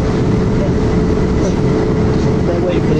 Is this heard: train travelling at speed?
yes